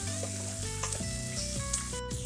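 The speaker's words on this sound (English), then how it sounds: "fry these onions till the colors change" Onions frying in a pan with salt and turmeric give a steady, close sizzle of hot oil, with a few faint clinks of a utensil over a short, even stretch and no talking.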